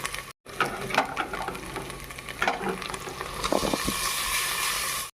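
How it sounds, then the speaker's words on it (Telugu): Washed basmati rice fries lightly in ghee for an Andhra-style gongura pulao, giving a steady loud sizzle with occasional stirring scrapes and clinks, no talk over it. "తేలిగ్గా కొంచెం ఫ్రై చేసుకుందాం."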